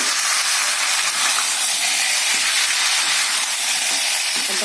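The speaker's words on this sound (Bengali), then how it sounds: "এবার আমি এতে আলু আর টমেটোটা দিয়ে দেবো। দিয়ে বাদবাকিটা ভালোভাবে কষাবো।" Chicken kosha fries with potatoes and tomatoes in a pan, making a steady, loud sizzle and hiss with small stirring noises underneath and no pauses.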